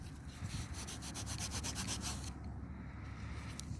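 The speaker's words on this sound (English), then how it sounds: "Let me give it a pants rub." An old punk compact is rubbed briskly against pants fabric, a close, steady, rapid scratchy friction that runs without pause for a few seconds.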